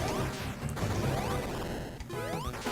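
Video game Sonic Advance, a capsule smashing into the player character Amy: loud game crash and whack effects with whooshing sweeps, repeated in bursts over a busy chiptune-style backdrop, no talking.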